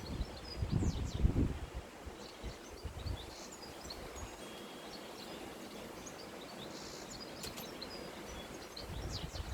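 Soft, steady outdoor wind rustles gently with occasional leaf movement and faint bird chirps in the distance; a few low gusts buffet nearby early on.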